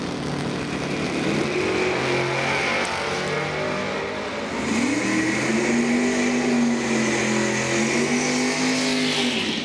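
Pro drag race cars launching at Numidia Dragway during round two, with loud engines roaring and revving, one rising surge of power midway that climbs in pitch and then holds a sustained high wail.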